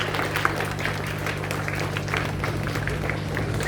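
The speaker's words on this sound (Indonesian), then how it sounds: "Tepuk tangan terlebih dulu untuk peserta upacara pada pagi hari ini." Applause from participants at a Monday school flag ceremony at an Indonesian primary school, a dense outdoor patter of many hands clapping steadily over a low hum, with a voice faintly underneath.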